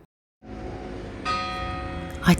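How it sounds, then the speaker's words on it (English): Church bells of St James's Church, Marylebone, London, ringing out after a brief silence, a sustained metallic tone that swells partway through with a fresh strike, heard at moderate distance. "just in time to hear the bells of St James's Church."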